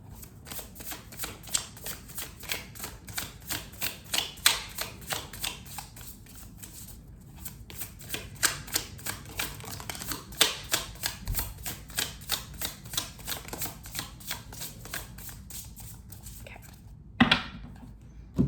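Tarot cards being shuffled by hand in quiet surroundings, a long run of rapid, crisp riffling flicks with small pauses, close and fairly soft, with a sharper knock near the end.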